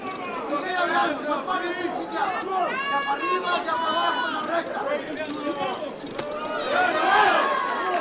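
A boxing crowd inside the Chumash Casino roars and chatters during a title bout, dense close hubbub with shouting and rising cheers that swell near the end.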